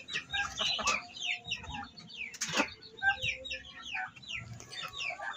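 Several chickens being fed leftover banana cluck and chatter close by in an irregular stream of short calls, with a brief sharper squawk midway.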